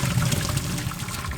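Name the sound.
draining water from boiled potatoes in pot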